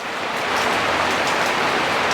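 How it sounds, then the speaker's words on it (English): Steady rain pours outside a garage where a Royal Enfield Bobber motorcycle project is underway, a dense, even hiss with scattered droplet taps that holds at full strength throughout. "I've got to wait for a break in the rain now."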